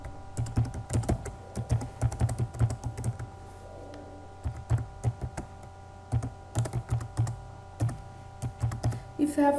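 Quick bursts of clacking on a computer keyboard as an email address is typed into a Gmail sign-in box, close and crisp, with short pauses between runs of keystrokes.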